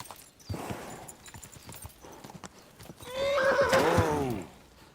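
Horse hooves clip-clop steadily in a scene from the Fallout series, then a loud, close neigh with a long wavering whinny rises over them before fading.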